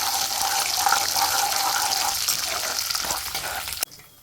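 Tempering spices fry in hot oil in a pan for mint rice, giving a steady hissing sizzle that carries on loudly before cutting off sharply near the end.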